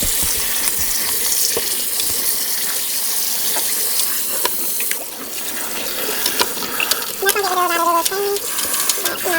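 Tap water runs steadily into a kitchen sink while corn is rinsed for elote, a continuous hiss with occasional clinks and light handling sounds.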